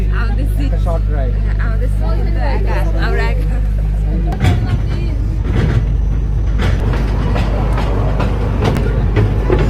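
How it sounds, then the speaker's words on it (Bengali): Short amusement park train ride in a new park in Rajshahi, with a steady low rumble and rattling clatter of the cars running throughout, loud and close, while people talk over it. "উঠে পড়ছি, আমরা ট্রেনে করে যাচ্ছি।"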